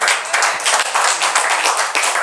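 A church congregation claps during a French-language sermon, producing loud, close, rapid and fairly rhythmic handclaps that run continuously for a couple of seconds with no talk over them.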